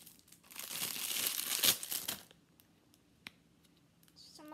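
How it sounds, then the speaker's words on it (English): Crinkling plastic packaging is handled and snipped open with scissors for about two seconds, followed by a few faint clicks and rustles in a quiet room. "I'm just gonna use the scissors and cut it open."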